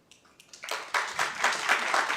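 An audience at a school board meeting breaks into applause that starts with a few scattered claps and quickly builds into dense, sustained clapping from many people in the room.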